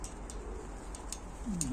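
Soft, low cooing of pigeons rising near the end, over a steady background hum with a few faint clicks.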